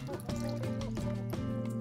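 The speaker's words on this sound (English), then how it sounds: "To that, I'm adding some apple cider vinegar" Apple cider vinegar is poured into a salad dressing, making a short, soft liquid trickle and drip that stays faint throughout.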